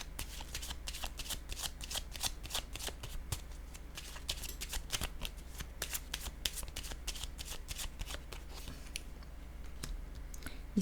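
A deck of tarot cards being shuffled by hand, with steady rapid riffling and crisp card clicks repeating close up for the whole stretch, no talking.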